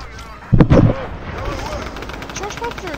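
Shotgun fire in Fortnite: one loud, booming blast with a short rumbling tail, followed by quieter in-game sounds, and a voice talking over it.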